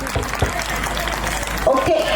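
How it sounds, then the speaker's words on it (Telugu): Guests clap at a sangeet celebration, a thin, scattered patter that carries under steady talk from a nearby voice through the short stretch. "come on everyone claps"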